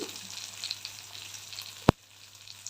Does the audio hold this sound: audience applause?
no